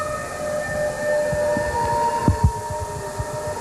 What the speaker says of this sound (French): Vous entendez les sirènes du cortège qui arrive.